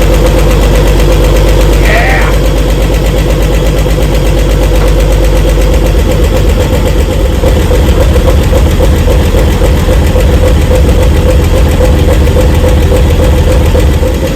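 A 1959 Chevy Parkwood Wagon engine, cold and on a jump pack with no starting fluid, runs loud and steady throughout, its rough idle picking up a heavier, knocking pulse partway through.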